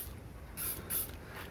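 Disinfectant spray is squirted inside a car in two short hissing bursts, close and quiet, over a low background hum.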